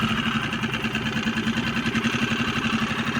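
An outboard motor idles on an inflatable Seapro fishing boat with a steady, rapidly pulsing mid-pitched chug, close and moderately loud, with no talking.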